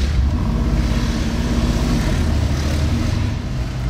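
White Ferrari manoeuvring while parallel parking on a Monaco street, a steady loud engine rumble with a low drone, close by and continuous throughout.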